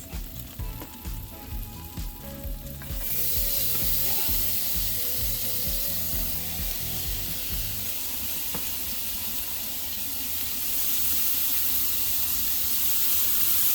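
Chopped onions drop into melted butter in a pan for a curry chicken, with a few kitchen clatters at first, then a loud, steady, close sizzle.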